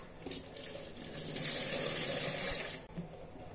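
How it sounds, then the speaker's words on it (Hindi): Cold water runs from a tap and splashes steadily over soya chunks sitting in a kitchen strainer, a continuous close hiss with a slight swell in the middle and a brief dip near the end. "अब इसके ऊपर थोड़ा सा ठंडा पानी,"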